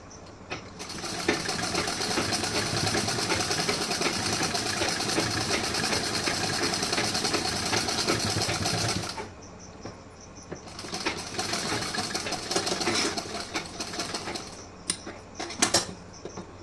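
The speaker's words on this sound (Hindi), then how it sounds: "अब यहाँ पे एक सिलाई और लगाऊंगी इस पे" A sewing machine stitches a blouse in a long continuous run, pauses briefly, then whirs again for a shorter burst, ending with a few light clicks.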